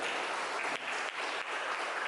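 Loud, dense audience clapping fills a hall during an Umrah program orientation and information event at Alexandria Islamic School, a steady wash of many hands with no voices over it.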